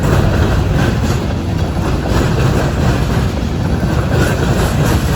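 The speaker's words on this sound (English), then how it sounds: "As we watch the sand train clank over the diamond" A sand train on the CN Iron Range clanks over a railway diamond crossing, with a steady, loud rumble of rolling railcars and rhythmic clickety-clack of wheels striking the crossing throughout, fairly close and continuous.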